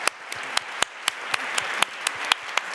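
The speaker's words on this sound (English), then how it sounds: "Shall we give them a warm round of applause for all that they" Conference audience applauding after a panel discussion, a steady wash of many hands clapping at moderate distance, with a few sharper individual claps standing out in a regular rhythm.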